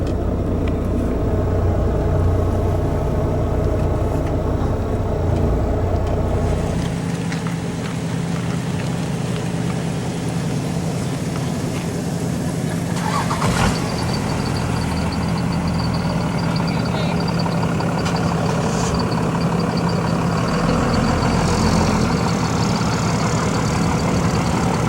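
A heavy truck's engine rumbles and idles loudly as it rolls forward into a ferry boarding lane, the low drone shifting in tone partway through, with a sharp knock near the middle.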